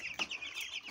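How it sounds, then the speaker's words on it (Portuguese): Chickens cluck on a small farm: a brief, fairly faint burst of clucking over quiet background noise, lasting under a second. "Aqui, pessoal, tem frangos."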